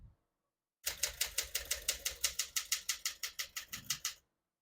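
Typing on a 1964 Smith-Corona Sterling portable typewriter: about eighteen crisp, evenly spaced key strikes in a quick steady run, close and clear, with quiet before and after.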